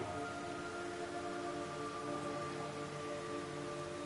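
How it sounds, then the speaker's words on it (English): Steady rain pours down in Metal Gear Solid 3 during the Sorrow boss encounter, a constant dense hiss of falling drops with faint sustained tonal hum beneath, unbroken and alone for the whole stretch. "It's raining blood."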